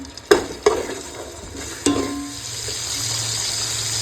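Whole cumin, dried chilli and bay leaf hit hot oil with a steady close sizzle, punctuated by a few sharp clinks from stirring at the start and again midway.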